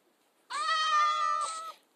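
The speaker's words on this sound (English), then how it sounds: "cats. I want you now. I want those cats." A single drawn-out cat meow from Minecraft, clear and close, rising smoothly and trailing off after about a second.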